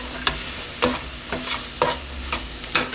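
A spoon stirs tomato paste into a pot of Bahamian crab and rice, giving several distinct scraping strokes at an irregular rhythm over a faint sizzle, close and clear with no talking.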